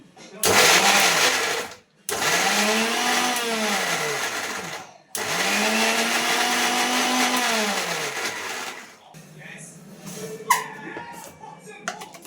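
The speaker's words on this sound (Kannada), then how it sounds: "ಖಾರದ ಪುಡಿನೂ ನಾನು ರುಬ್ಬಕ್ಕೆ ಹಾಕ್ಕೊತಾ ಇದ್ದೀನಿ." A kitchen mixer grinder grinds chili powder for drumstick sambar in loud whirring bursts that rise and fall in pitch. The motor stops briefly between three runs, followed by clattering as the jar is handled.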